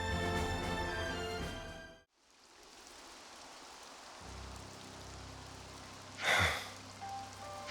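Steady rain falls as a soft, even hiss during a Xenoblade Chronicles 3 cutscene, following a musical passage that cuts out abruptly, with a brief louder whoosh near the end and no talking.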